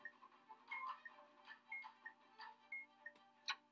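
A bomb countdown timer ticks in the video game Keep Talking and Nobody Explodes, giving steady, evenly spaced electronic ticks with a few brighter beeps, fairly faint against a quiet background.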